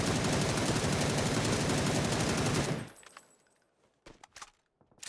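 Sustained rapid automatic gunfire from a shooter video game weapon, loud and dense for nearly three seconds, then cutting off abruptly into near silence with a few faint clicks and taps.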